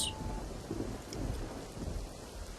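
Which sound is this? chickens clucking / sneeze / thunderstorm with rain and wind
thunderstorm with rain and wind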